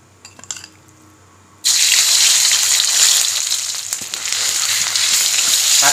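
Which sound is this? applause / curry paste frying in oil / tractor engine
curry paste frying in oil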